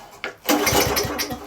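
A project car engine cranks briefly and tries to catch, a short burst of rough mechanical churning and sputter after a quick click, close and fairly loud with no speech.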